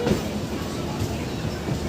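A Kolkata local train on the Dankuni–Sealdah line, just pulled out near Baranagar, runs with a steady, close rumble of the carriage, and voices are heard over the running noise.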